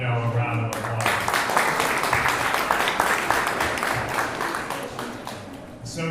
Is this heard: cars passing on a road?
no